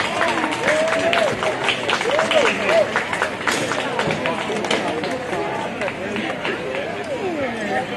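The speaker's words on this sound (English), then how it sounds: "Let's give Pepper a round of applause" An outdoor crowd at a Tuscarora Nation picnic children's contest applauds a baby contestant, a steady wash of clapping mixed with loud chatter and voices throughout.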